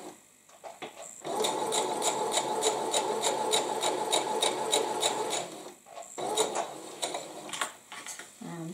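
A sewing machine runs steadily for several seconds, stitching a quilt through to a stitch saver scrap, its rapid needle chatter loud and close, with brief handling rustles before and after.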